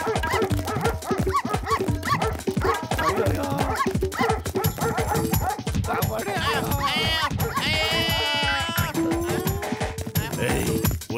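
Cartoon dogs bark and yip in a busy animated scene from a Motu Patlu episode. Rapid, loud barks pile up alongside bleat-like cries and overlapping character voices.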